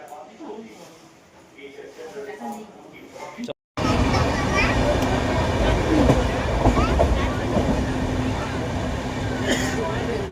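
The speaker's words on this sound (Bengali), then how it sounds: "ভুবনেশ্বর থেকে ট্রেন ছেড়ে দিয়েছে।" A passenger train runs steadily after leaving Bhubaneswar on a homeward trip from Puri. The quiet carriage gives way abruptly to a loud, continuous rumble and rattle of the moving train, with voices faintly present.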